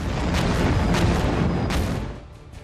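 Thermite bomb blasts in wartime Mariupol, three or four rumbling booms in quick succession over a continuous roar that fades out after about two seconds, loud, with no voices.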